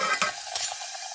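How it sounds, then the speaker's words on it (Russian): Batter-coated cheese pieces frying in a saucepan, a close, steady sizzle and crackle with a couple of brief louder spatters, no voices. "как мы там в сотейнике будем жарить"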